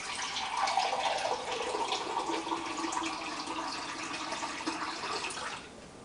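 Water pours from a cup into the pot of a Ninja Combi cooker, a steady splashing fill lasting several seconds before tapering off near the end.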